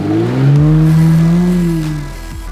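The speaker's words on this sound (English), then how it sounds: "Jeff had one last muddy hill climb here he was keen to have a go at" A 4WD revving hard up a muddy hill climb in the Glasshouse Mountains, Australia, the engine rising and holding a loud, close, strained drone before easing off.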